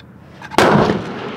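A single sharp, loud rifle shot from an SA80 L85A1 5.56mm at an outdoor range, a close crack followed by a booming decay, with no talk.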